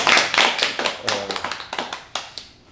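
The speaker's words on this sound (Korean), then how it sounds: "우리 박수 한번 보내겠습니다" A small studio audience claps for the founder of the sport Hangung, with a burst of close, crisp hand claps that thins into a few separate claps and fades out.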